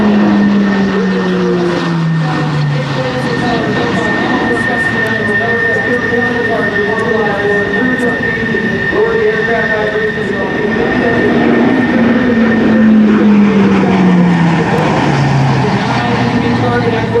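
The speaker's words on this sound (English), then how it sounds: "the Hawkeye is the largest active carrier-based aircraft in the world" Grumman E-2 Hawkeye carrier-based aircraft with turboprop T-56 engines flying a minimum-radius turn at a naval air station airshow, a loud continuous propeller drone with slowly gliding pitch, close and dominating throughout.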